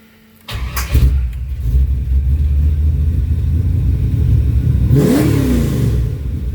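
A car engine with a freshly tuned, slightly rich setup catches and rumbles at close range, holding a steady idle before a quick throttle blip revs it up and lets it fall back.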